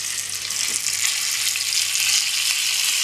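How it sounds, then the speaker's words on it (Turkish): Tomato paste sizzles in hot melted butter in a pan, a loud, close, continuous hiss that holds steady throughout with no voices. "Tereyağı şu anda iyice kızmış noktaya geldi. Bunun üzerine ben hemen salçamı ekliyorum."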